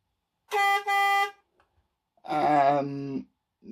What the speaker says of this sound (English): I've actually gone and downloaded the horn off my truck